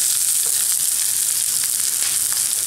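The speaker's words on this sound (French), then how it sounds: "un peu d'huile d'olive. Et je rajoute des oignons nouveaux" Spring onions sizzling in olive oil in a small tagine dish, giving a loud, dense, steady frying hiss heard up close with no talking.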